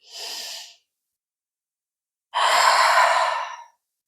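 Two long, breathy exhalations during a chest-mobility breathing exercise, the first short and the second longer and stronger, each standing alone with silence between.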